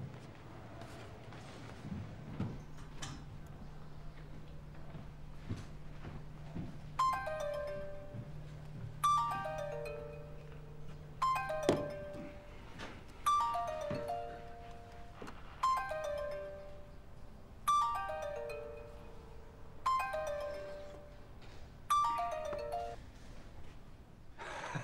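A telephone ringtone chimes in a law office during a phone call, repeating in regular bursts about every two seconds at moderate loudness, with no talking over it.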